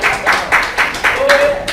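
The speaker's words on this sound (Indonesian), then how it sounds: "tepuk tangan buat mereka berdua" A small group of students applauds in a classroom, a short round of rhythmic, fairly loud clapping in steady pulses while a voice talks over it.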